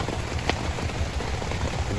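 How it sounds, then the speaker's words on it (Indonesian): Heavy rain beats on a leaking camping tent, a dense loud patter of drops close by with a sharp splat partway through. "Tiba-tiba hujan."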